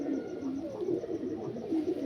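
Pigeons coo continuously at close range, a low rolling throaty murmur rising and falling in repeated phrases, with no talk over it.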